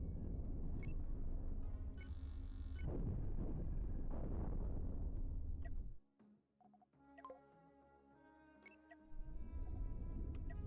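A spaceship self-destructs in the Cosmoteer space combat game with loud, continuous rumbling explosions that drop to a brief lull and then roar back up near the end.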